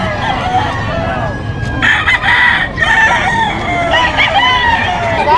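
Gamecocks for sale at a market in Bocaue, including kayami and talisayin birds, crow repeatedly over steady crowd and bird chatter, several overlapping calls from nearby and farther off.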